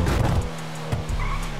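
Car in GTA RP skidding and sliding, tires squealing loudly under a running engine, with a short scrub, a brief pause and then a longer slide, no talk.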